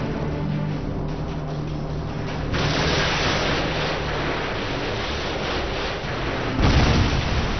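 Missile explosions in Modern Warfare 2, a dense, continuous roar of blasts and rumble with a heavier impact near the end, loud and without talk.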